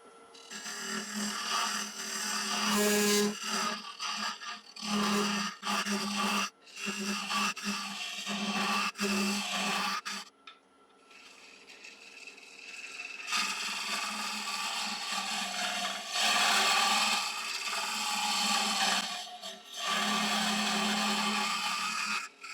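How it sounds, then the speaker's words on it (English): An Easywood Pro Hollower carves out a yew log vase on a lathe, giving a steady scraping and cutting whir that comes in close, uneven bursts with brief pauses. "So now I'm just switched over to the Easywood Pro Hollower, so that will allow me to get right down."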